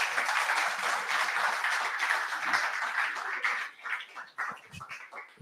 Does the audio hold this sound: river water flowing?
no